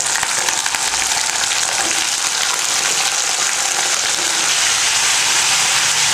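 Potatoes go into a hot tempering of curry leaves frying in oil, producing a loud, dense, unbroken sizzle up close that holds steady throughout.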